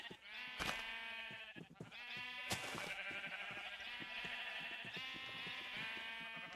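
Video-game sheep give long, quavering bleats one after another, near and loud, broken by a couple of sharp clicks, with no talking.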